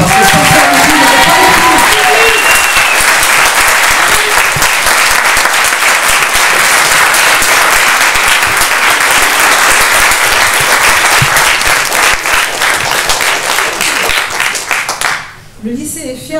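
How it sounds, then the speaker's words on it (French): A crowd applauds steadily and loudly at a film premiere in honour of Sister Lydie, the clapping dense and sustained before tapering off near the end, with a voice speaking over the start. "J'aimerais qu'on applaudisse Sœur Lydie, s'il vous plaît"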